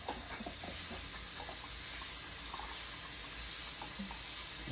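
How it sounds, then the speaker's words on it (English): Tap water pouring steadily into a container of blanched peas, a continuous close splashing hiss with small gurgles throughout. "a little more water in there and cool that part off."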